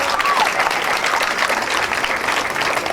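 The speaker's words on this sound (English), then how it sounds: "Give her a round of applause." A crowd applauds a high school valedictorian at a 2009 closing ceremony for a campus, dense sustained clapping filling the hall from start to finish at a steady, loud level.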